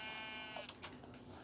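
Sheep in Minecraft giving one short, wavering bleat, faint and brief, with a few soft clicks after it and no talk.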